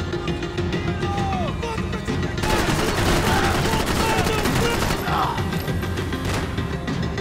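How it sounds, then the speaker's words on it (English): Shotgun gunfire in the Max Payne 3 video game during a bullet-time firefight, loud bursts of shots and crashing impacts layered densely over continuous action noise, with a dropped shotgun firing once more as it lands. "The shotgun fired one more time when it dropped on the ground"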